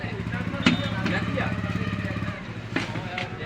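A Sonalika diesel tractor engine runs at a steady idle nearby, its low chugging drone continuous under someone talking close to the microphone.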